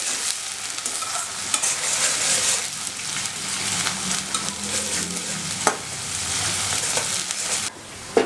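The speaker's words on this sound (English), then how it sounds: "add few chopped methi leaves, and let us roast that well along with the onion. Let us fry them." Chopped methi leaves and onion fry in hot oil, giving a steady sizzle broken by the scrape and clatter of stirring, close up and with no talking.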